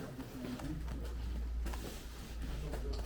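Pigeons coo in low, repeated murmurs at a bird sale table in Gelibolu, several birds close by with faint background noise.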